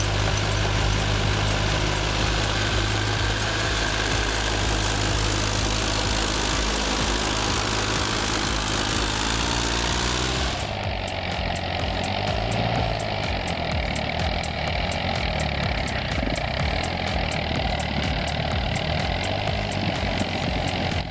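A tractor engine runs steadily at a tug-of-war competition, a loud continuous mechanical drone with a low hum that shifts to a rougher, busier tone partway through, with no voices.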